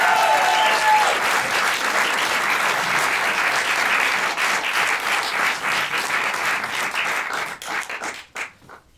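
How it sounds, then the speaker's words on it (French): Audience applause fills a comedy club, a dense, steady clapping from the crowd that holds loud for most of the stretch, then thins into scattered individual claps and fades near the end. "Vous pouvez encore applaudir pour eux aussi."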